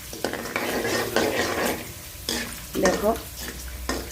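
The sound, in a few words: vegetables frying in old oil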